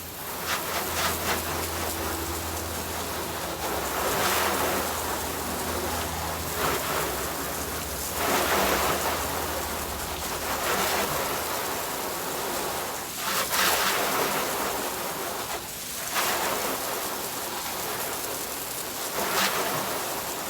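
A spray of water hits car body panels coated with two layers of Torque Detail Mirror Shine wax. The hiss and patter run continuously like rain, with a few louder surges, and no talk is heard.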